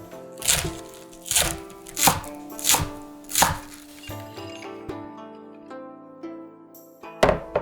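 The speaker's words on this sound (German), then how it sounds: "Die grünen Blätter in feine Ringe schneiden." A knife chopping green onion leaves into fine rings on a board, a series of crisp rhythmic thuds about twice a second, then a pause with ringing background tones before one last cut, close and clear with no voices.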